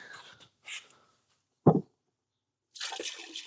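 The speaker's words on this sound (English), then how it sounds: "Once you've got all the covers off, their first job is just empty out the crap in here" Dirty water from a Vax Platinum Smart Wash carpet cleaner tank is poured out down a drain in short, separate splashes and gushes, one louder splash in the middle.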